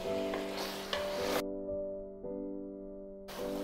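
Mutton kaleji frying with tomato paste and spices over medium-high flame, a steady soft sizzle with scraping stirs and a persistent musical tone underneath.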